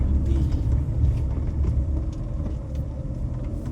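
A vehicle climbs the road up to a Sivan temple, its engine a low, steady rumble that swells and eases slightly as it moves close by.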